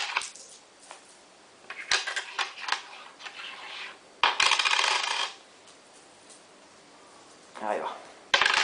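Two-peso coins dropping and clinking onto a hard surface in several bursts, close and fairly loud, with a voice speaking briefly between the drops.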